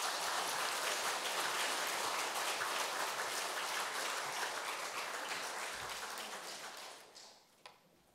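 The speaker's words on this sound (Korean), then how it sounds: "박수로 환영해 주시죠." Korean church congregation applauds at Sunday worship to welcome a pastor to the pulpit, a dense roomful of clapping that holds steady, then thins and fades out toward the end with a few last claps.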